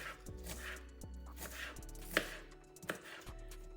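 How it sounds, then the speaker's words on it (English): Onions chopped with a knife on a cutting board while a creamy crawfish, shrimp and sausage pasta is prepared: a steady series of close, crisp knife taps, irregular in rhythm, alone with no talking. "So we're just gonna chop these onions up."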